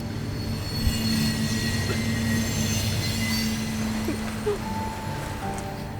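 A train rolling past with steady wheel rumble and sustained high metallic squeals from the wheels, loud and close, continuous throughout.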